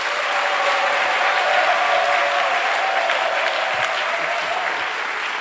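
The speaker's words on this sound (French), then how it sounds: "Acclamons Jésus-Christ." A church congregation at a Sunday praise and worship service in Abidjan claps and cheers together in sustained, dense applause that holds steady throughout, loud and close with a faint sung or held tone running beneath it.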